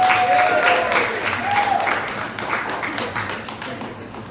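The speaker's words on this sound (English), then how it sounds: "give him a round of applause" A small audience at a community organizing talk claps in a sparse round of applause, individual hand claps distinct and fairly near, gradually thinning out over a few seconds.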